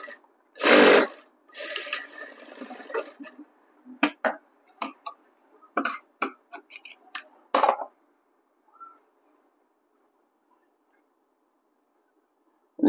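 A sewing machine runs a center stitch across the band joint of a blouse in short separate bursts of whirring and clicking. Quiet gaps fall between the bursts, and the clip ends in near silence.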